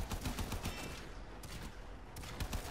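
Rapid bursts of gunfire from the Call of Duty video game, a dense loud fusillade of repeated shots with sharp transients throughout, including sniping and RPGs in play, with no talk over it.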